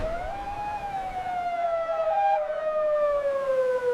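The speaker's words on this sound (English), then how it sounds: "Sri Lanka built sirens that could speak faster than the sea." A wailing warning siren holds a steady, slowly falling tone with no talking over it.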